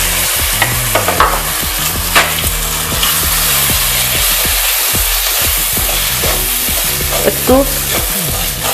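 Chickpea and cheese paratha filling with curry leaves frying in a pan, a loud continuous sizzle broken by repeated scraping stirs and clatters, with a brief spoken word and some background music.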